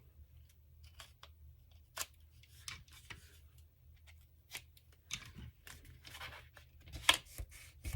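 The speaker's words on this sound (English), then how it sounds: "I forgot to cut that corner." Scissors snip the corner of a handmade paper craft tag, giving a few sharp, close cuts scattered among quiet handling and faint rustling of paper.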